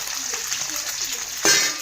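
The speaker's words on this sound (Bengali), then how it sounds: "ডিমটা বেশি ভাজবো না, ডিমটা জাস্ট একটু বাদামি কালার হবে" An egg fries in a pan until it turns slightly brown, giving a steady close sizzle with a louder hiss burst near the end.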